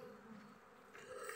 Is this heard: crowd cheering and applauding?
no